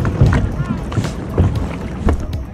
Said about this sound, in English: Want to go right, you paddle on the left side.